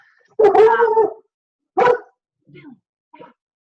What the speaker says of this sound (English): Hold on, I'm gonna put my dog out of my room.